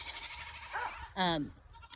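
Goats in a farm pen let out a clear, wavering bleat close by, with a fainter call just before it, while a person talks over steady outdoor background noise.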